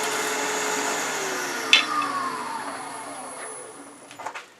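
A wood lathe roughs down a twig pot blank, a steady whirring hum with a gradually falling pitch, a sharp catch or scrape partway through and a few clattering knocks near the end.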